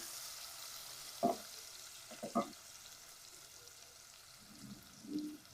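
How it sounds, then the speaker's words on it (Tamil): Sliced large onions sauté gently in a pan with a soft, steady sizzle, broken by a few brief spatula scrapes and stirs, all fairly faint and quiet. "பெரிய வெங்காயம் நல்லா ஸ்லைஸாக கட் பண்ணி வச்சுருக்குது. லைட்டாக வதக்கிக்கலாம்."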